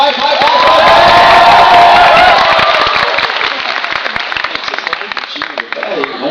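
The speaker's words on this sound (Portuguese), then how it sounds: "vamos fazer uma gritaria aí, palmas no 3" A studio audience erupts on cue into loud clapping and shouting, a dense roar of cheers and applause that peaks early and then settles into steady clapping with scattered yells.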